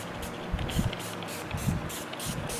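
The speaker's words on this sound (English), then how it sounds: "Spray up the back of this to polish it and get it cleaned up." A series of short hissing bursts of spray cleaner onto the back of an electric guitar, roughly evenly spaced, close by, with faint low rumbling between them.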